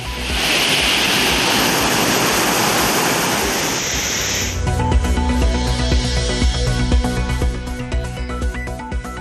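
Courtallam waterfalls in flood give a loud, steady roar of rushing water for about four seconds, and then music cuts in over a softer wash of water.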